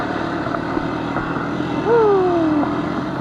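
Honda CR250 dirt bike engine on a trail ride, a loud, steady drone with a pitched whine that rises and then slides down as the revs fall partway through.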